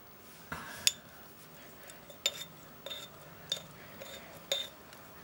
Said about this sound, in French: On mélange tout doucement pour éviter que ça gicle partout.